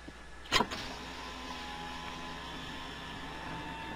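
A car's left power window motor starts with a sharp click and thud, then gives a long, even electric hum that carries on steadily to the end. No talking.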